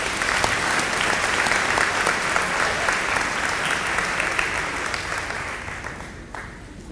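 Loud, dense applause from a banquet crowd for a team member at a school athletic banquet, sustained clapping close and steady before thinning out near the end.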